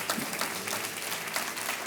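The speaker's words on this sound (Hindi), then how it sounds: "तालियां बजती रहें इन दोनों के लिए।" Studio audience on the Hindi quiz show Kaun Banega Crorepati applauds a contestant's correct answer and prize cheque, a dense, steady wash of many hands clapping at close range with no talk over it.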